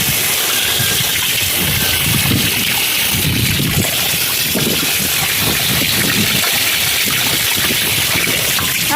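Water flows continuously through a pipe to wash a bicycle, a loud steady gushing and splashing hiss that never lets up.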